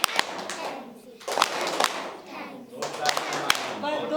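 Children in a government school classroom clap their hands in short rhythmic bursts, loud and close, with pauses between the groups of claps and young voices faintly mixed in.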